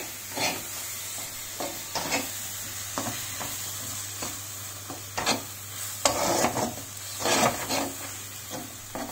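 Eggs and brinjal for khagina are mixed in a frying pan, with a gentle sizzle under irregular scraping and stirring strokes of a utensil, some louder and sharper than others. No one talks.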